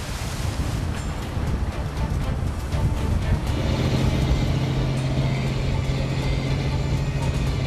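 Rough sea churns around a small fishing boat setting octopus traps near an island, with steady wind buffeting the microphone and a continuous wash of surf, joined partway through by a low droning engine.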